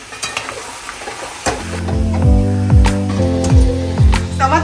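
Mutton being stir-fried in a pan until it darkens, loud close sizzling with a rhythmic series of scraping strokes as the meat is turned.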